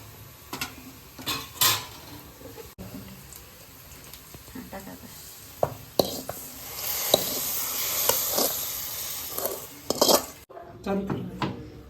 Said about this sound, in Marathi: त्या शेवया आपण दुधामध्ये शिजण्यासाठी टाकून देऊ